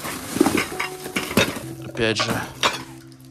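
Old crockery and dishes clinking and scraping as they are handled in an abandoned Riga apartment, several close clattering knocks and chinks, with brief speech in between.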